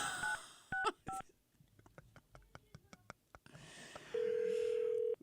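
A telephone number being keyed in, with bright touch-tone beeps and clicks of buttons, then a steady ringback tone holding near the end, close and clear, with faint whispering in the background.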